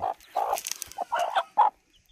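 Chickens and young chicks, about ten days old, clucking in short bursts, several separate calls close by with brief pauses between them and no talk.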